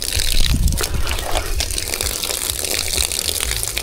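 Water from an irrigation supply line for watering farm crops gushes steadily and loudly, a continuous broadband rush with no pauses across the whole stretch.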